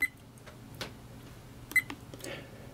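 A Yi G80 4K action camera gives short electronic beeps as its small front button is pressed, two faint, brief tones about two seconds apart against a quiet room.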